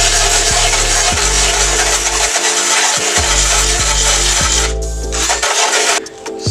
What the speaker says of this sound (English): Firstly, we're going to wire brush it down a bit